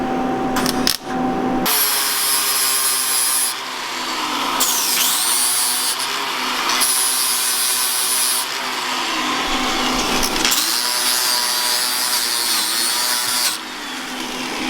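A grinder working down a fresh weld on a BMW E30, a loud, close, continuous whine with several brief pauses and pitch shifts as it bites into the metal.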